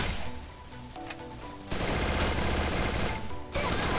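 Rapid bursts of automatic gunfire in the video game Free Fire as a player shoots a teammate, loud dense rattling volleys with a brief lull in the middle and another pause near the end, no voices.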